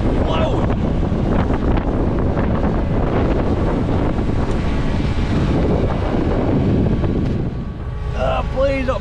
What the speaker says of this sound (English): that wind is blowing